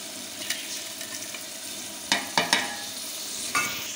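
Whole spices and tomatoes frying for chana pulao make a continuous bright sizzle, broken by a few sharp stirring scrapes of the spoon, close and with no talk.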